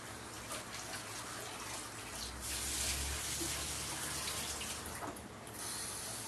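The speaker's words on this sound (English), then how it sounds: "I'm going to rinse it with cold water" Cold tap water runs steadily into a pot to rinse sweet potato, a continuous close splashing gush that swells briefly in the middle with no talking.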